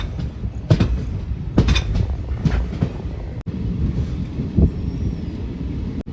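A train passing over the rails at a junction on a route used by the Puducherry Express: close, loud rumbling with repeated clattering wheel clacks at irregular intervals, without talk.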